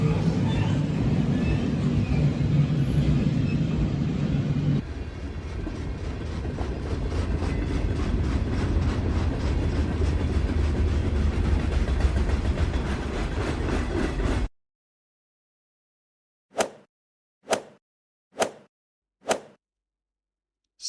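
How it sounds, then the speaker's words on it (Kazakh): A car-carrier train rolls along the rails with a steady, loud rumble for about fourteen seconds, then drops to silence followed by four short, sharp separate clicks. "Бұл автотасығыш пойызы."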